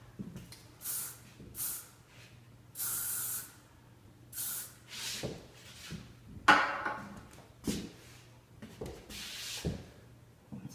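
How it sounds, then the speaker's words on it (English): Hairspray misted onto a styled head of hair in a salon, several separate hissing bursts of spray, each a second or so long, close and fairly loud, with quiet pauses between. "We'll give her a shot of Lacature hairspray and some Glossapil just to finish everything off."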